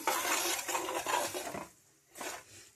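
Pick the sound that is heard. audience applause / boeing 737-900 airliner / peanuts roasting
peanuts roasting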